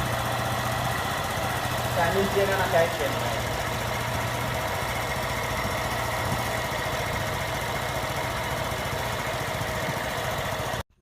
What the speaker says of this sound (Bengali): ভ্যালভ ক্লিয়ারেন্স করার পরে এই ইঞ্জিনের সাউন্ডটা আপনাদেরকে শোনাবো